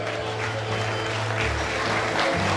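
An audience at an iftar event claps in a dense, sustained burst of applause, loud and continuous for a few seconds.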